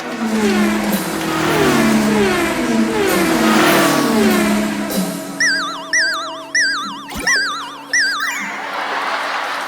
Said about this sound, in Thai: ดึกๆ เนี่ยมาชอบมาแว้นกันครับ เริ่มแข่งกันแล้ว